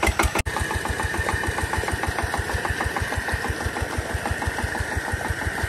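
A newly rebuilt diesel Peter engine used for watering a vegetable field fires after a sharp clank and settles into a loud, steady, rapid knocking chug, close by and alone.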